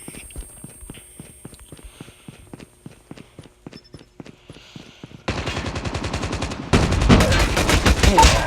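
Pistol shots in a first-person shooter game, sharp rhythmic reports at first, then denser, louder rapid fire that grows more intense toward the end.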